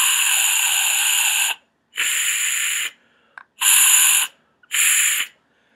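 A manual acoustic white noise generator, used without a straw, hisses in four bursts of about a second each with brief gaps. The hiss is broad and airy, close and steady, with no voices.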